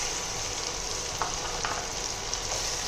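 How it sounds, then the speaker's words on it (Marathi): Finely chopped medium onion sautés in a pan with a constant, even sizzle and hiss, close and moderately loud, with a few faint stirring clicks and no talking. "त्याला कांदा देखील मस्त असा परतून घ्यायचा आहे।"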